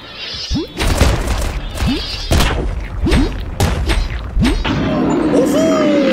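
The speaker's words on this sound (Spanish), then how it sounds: "Explosiones por doquier." Repeated loud booms and crashes of explosions in the video game Core Keeper burst out in quick succession, with rumbling debris and effects between them, and a steady whine near the end.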